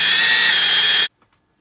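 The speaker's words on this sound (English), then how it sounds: "go along and drill a series of holes, which I may do, just to make me grinding out a little easier" Power drill boring a row of holes in metal for rough fabrication work, a loud steady whine running for about a second and then cutting off abruptly into silence.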